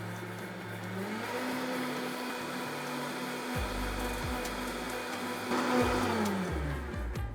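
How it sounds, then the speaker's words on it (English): Countertop blender running on eggs, a loud continuous motor whir with pitch shifting as the load changes, no talking. "Let's blend our eggs now."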